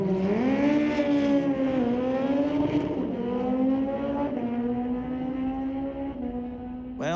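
Street-legal drag racing cars at Mission Raceway Park, a steady engine drone with a strong harmonic whine holding level and dipping a little as revs shift, heard at a moderate distance without speech.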